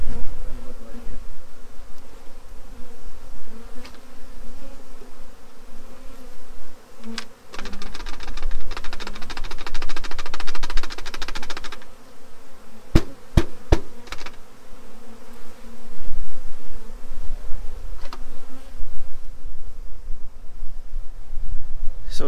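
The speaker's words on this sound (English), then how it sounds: "There's still a few bees in here, down in the hole." A dense, steady buzzing of a swarm of bees in a hole fills the air, with a few sharp knocks and taps partway through.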